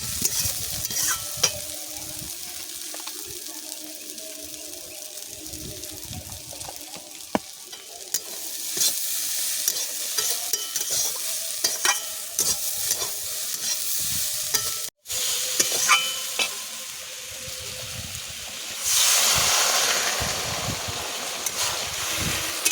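Greens being stirred and fried in oil with salt, then water added, for a Bengali village-style saag with prawns; a steady sizzle runs under scraping stirs, with a louder hiss burst near the end as the liquid goes in.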